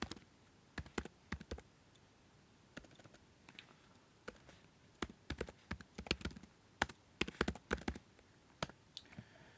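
Computer keyboard typing on a Mac in sparse, irregular bursts of crisp key clicks with short pauses between, close and fairly quiet, with no talking.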